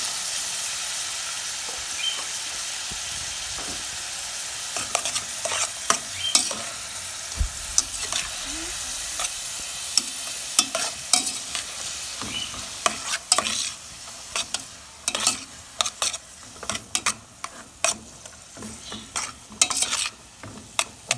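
Grated carrot frying in oil with rice in a pan, a constant close sizzle overlaid by frequent scraping clinks of a spoon stirring against the pan, growing busier toward the end.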